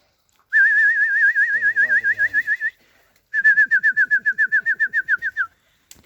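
Pet pigeons at home giving two long, close, trilling coos, each a rapid warbling pulse train lasting about two seconds, separated by a brief pause, with a faint low rumble beneath the first.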